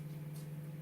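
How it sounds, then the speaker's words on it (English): A steady low electrical hum drones continuously, like a microwave oven running nearby, faint and unchanging throughout. "That's the microwave, if you can hear in the background."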